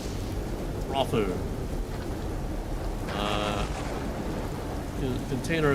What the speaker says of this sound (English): I can still hear the storm.